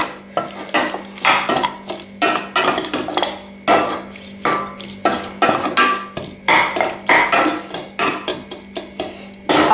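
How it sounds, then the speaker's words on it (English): Beef being mixed in a metal cooking pot with a utensil, giving a steady run of close, loud clanks and scrapes in a regular rhythm with no talking. "I'll mix up everything."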